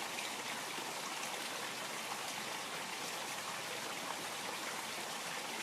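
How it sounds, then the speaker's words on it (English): Water flows and trickles steadily in a backyard koi pond, a continuous soft wash with no other sounds. "I love that I have the koi pond going here, so you all got the water element in your ears, in the sound."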